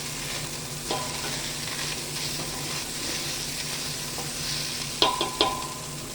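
Pork bones sauté with onion and garlic in a hot pan, a steady sizzle and frying crackle with a few sharp stirring scrapes and clinks near the end.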